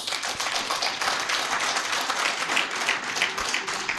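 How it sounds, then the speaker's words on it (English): A crowd applauds steadily, dense clapping from many hands that stays even and sustained throughout, with no voices standing out. "I believe Mr. President deserves a round of applause"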